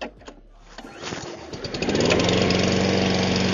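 A few clicks and a brief cranking, then a Blackstone SP530 Deluxe self-propelled lawn mower engine restarts and runs with a loud, steady roar close by.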